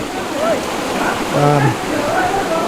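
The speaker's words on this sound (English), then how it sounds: "It's glacial water coming from a river up top here." Glacial river water pouring steadily from taps in Muktinath Valley, a constant loud rushing splash close by, with a person talking over it.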